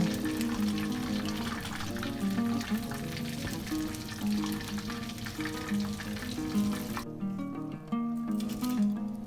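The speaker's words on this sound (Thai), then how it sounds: "ได้ยินเสียงกรอบตั้งแต่ตอนทอดเลยนะคะ" Crispy Hanglay chicken deep-fries in hot oil with a dense, crackling sizzle that runs on loud and close before dropping away near the end, with background music playing.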